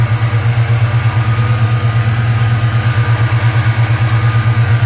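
Close, steady car engine idling while it warms up, an even pulsing rumble with no talk.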